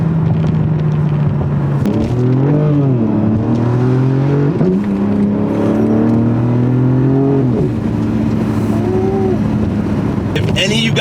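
A BMW G82 M4 drives with its exhaust mode switched off, the engine droning steadily with rising and falling pitch through gear changes, heard from inside the car.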